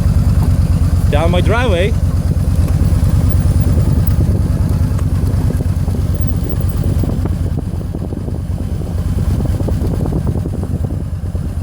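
Yamaha V-Star 950 motorcycle riding in first gear, a steady low engine drone close by throughout, while someone talks briefly near the start.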